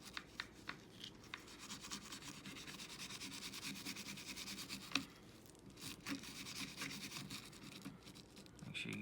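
Brush scrubbing inside the magazine well of a Glock 17 pistol during cleaning, close and soft scratchy bristle rubbing in quick repeated strokes, continuing steadily with a few light clicks.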